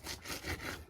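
A knife makes a single drawn-out stroke through food, cutting once across while preparing chicken and beef tacos; a close, rasping, sawing scrape lasts about a second with no talk.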